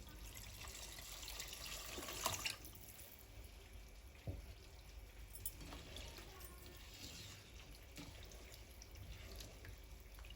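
Water pours into a cooking pot for chicken vegetable khichuri with rice and lentils, a faint steady trickle and splash running continuously, quiet and close, with no talk.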